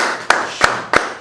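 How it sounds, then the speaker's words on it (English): A few sharp hand claps from a small group, four distinct bursts spaced about a third of a second apart, close and fairly loud, a round of applause for a rapper. "Please a round of applause."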